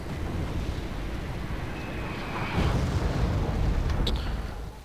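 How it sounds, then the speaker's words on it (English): Artillery fire in the Wargame Red Dragon strategy game, a rumbling, sustained low boom that swells midway and keeps rolling under wind-like noise, with a faint whistle partway through. "now artillery's firing"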